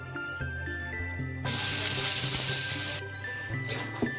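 Beans frying in hot oil in a heated wok over a wood-fired clay stove, a loud burst of sizzling that rises abruptly, holds for about a second and a half, then drops back to quieter kitchen clatter.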